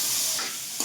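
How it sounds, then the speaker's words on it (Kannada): Paneer frying in hot oil in a pan, a dense steady sizzle filling the short span, with a small pop near the end and no voices. "ಬಿಸಿ ಆಗಿದೆ, ಪನ್ನೀರ್ ಹಾಕೊಂಡು ಫ್ರೈ ಮಾಡೋಣ"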